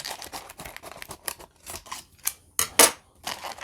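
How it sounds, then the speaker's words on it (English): Scissors snip through plastic diecast toy car packaging in a quick series of close, crisp cuts, with a couple of sharper, louder snips near the end. "We'll get our trusty scissors here. I'm just going to crack this guy right open."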